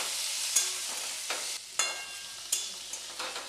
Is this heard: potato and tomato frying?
yes